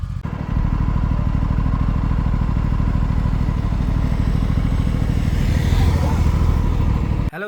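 A motorcycle ridden toward Pangong Lake in Ladakh, its engine thrumming steadily and loudly close to the microphone for the whole stretch, with a rough, pulsing low drone and clattering wind noise.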